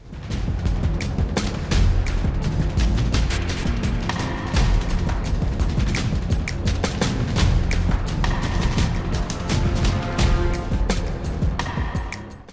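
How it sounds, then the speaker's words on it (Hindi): Dense, continuous rumble of blasts and sharp cracks, with booms and bursts of gunfire overlapping loudly throughout, no clear pauses. "तो आइए शुरू करते हैं आज का सफर और दिखाती हूँ आपको विस्फोट।"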